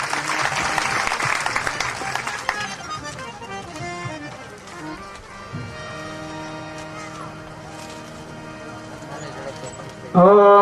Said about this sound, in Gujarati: આપણે તાળીઓથી વધાવીએ